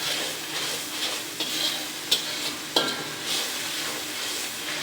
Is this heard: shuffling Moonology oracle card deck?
no